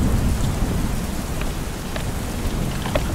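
Heavy rain pours during a thunderstorm at an outdoor backyard wedding, a dense, loud, steady wash of rain with a low rumbling undertone and scattered sharper drops throughout.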